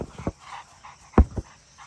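A four-month-old Cane Corso puppy whimpers and pants in short bursts close by, with a couple of sharper yelps among soft breathy sounds.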